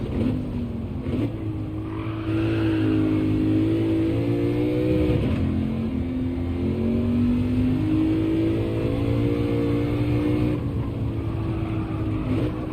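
A race car engine in Gran Turismo 7 drones on continuously, its pitch dipping and climbing as the car brakes and accelerates through corners, loud and up close with no talk.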